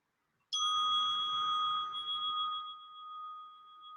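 A single meditation bell is struck once, ringing out clear and bright with a long, slowly fading resonant tone that hangs alone in a quiet room.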